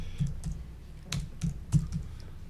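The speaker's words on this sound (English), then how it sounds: "I'm still typing it wrong." Keys clack on a computer keyboard in a handful of separate taps and short clusters, close and moderately quiet against a low background hum, with no talking.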